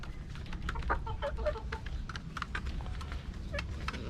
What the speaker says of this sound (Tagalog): Naghuhukayo yung mga manok ko na yan, nainitan talaga.